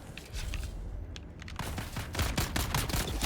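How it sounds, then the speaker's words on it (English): Gunfire from a gun in Dune: Awakening, a quieter stretch followed by a rapid, loud volley of sharp shots in quick succession, continuing steadily to the end with no talk. "Listen to the sound of that gun."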